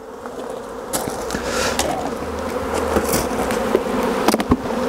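A steady, close buzzing of many honey bees droning continuously during a hive inspection, with occasional knocks and scrapes of beekeeping equipment mixed in.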